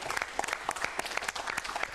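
Brisk audience applause at a public forum, a steady patter of many hands clapping for two seconds without voices.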